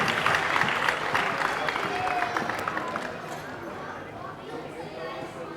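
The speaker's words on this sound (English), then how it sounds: "Round of applause, ladies and gentlemen." A stage event audience breaks into applause: dense, continuous clapping from a crowd, loud at first and gradually thinning and fading over several seconds, with faint chatter mixed in.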